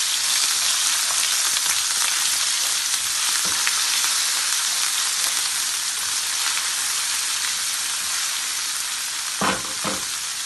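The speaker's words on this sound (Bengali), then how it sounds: "আদা রসুনের পেস্ট দিলে দিয়া তুলা লাড়া দিব।" Ginger-garlic paste for shrimp bhuna fries in a pan with a constant bright sizzle, broken by a few scraping stirs, the loudest two near the end, with no talking.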